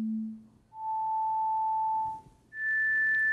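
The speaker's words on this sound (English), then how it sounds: "see what happens when we play individual tones" Pure sine tones play one after another, a brief low tone, then a sustained mid tone, then a higher steady tone, clean and alone in a cochlea demonstration.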